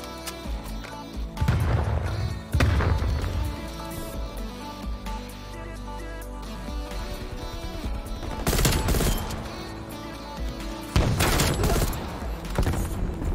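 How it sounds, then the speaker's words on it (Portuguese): Dense automatic gunfire and bursts of shooting from the video game Call of Duty: Black Ops Cold War, loud and continuous with heavier volleys around the middle and end, over a backing of game music and ambience. "Eu desisto, porque eu não sei de onde tá vindo o tiro."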